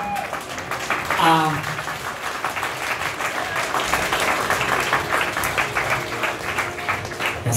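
Dense audience applause fills a gala show in Prague, steady and loud from start to finish, with a brief voice calling out near the beginning over the clapping.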